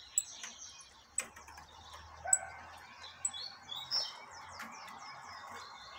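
A Peruvian canary being bred in a nesting setup gives short, bright chirps and tweets in a quiet room, scattered and intermittent with small clicks between calls.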